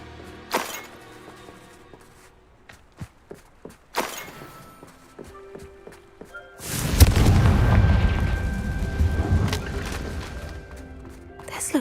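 Spellcasting in Hogwarts Legacy: scattered thumps and impacts lead up to a loud, booming fiery explosion from a Confringo spell, followed by a sustained rumbling roar that slowly fades.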